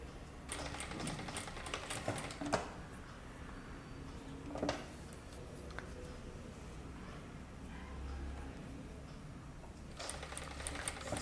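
A sewing machine fitted with a one-side presser foot stitches a kurta, making a faint continuous whirring chatter with a few sharper clicks and knocks, quiet and alone.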